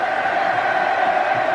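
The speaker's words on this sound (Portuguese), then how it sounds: "A torcida está aplaudindo a ela mesma, porque rolou uma ola aqui no Estádio Municipal de Juiz de Fora" Flamengo supporters roar and celebrate in the Estádio Municipal de Juiz de Fora after a wave ripples round the stands, a dense, steady wash of crowd noise with cheering voices at a constant loud level.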